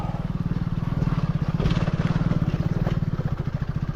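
A motorbike engine labors up a steep, rough hill track at Nagpuri Betta, its rapid pulsing exhaust loud and close, rising and falling in strain as the bike climbs.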